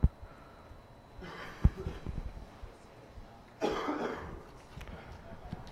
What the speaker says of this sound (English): I have people coughing.